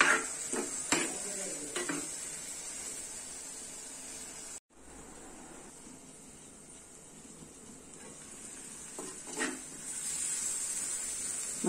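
Vegetable thoran is stirred in a pan with a spoon, giving close scraping, clinks of utensil on metal and a soft sizzle, with a brief pause midway before the stirring resumes, and no speech.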